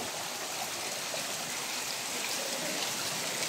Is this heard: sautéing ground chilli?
no